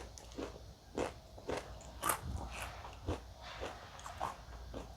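Crunchy fried tempe gorengan bitten and chewed up close, a series of sharp crisp crunches roughly every half second to second, fairly quiet with no talking.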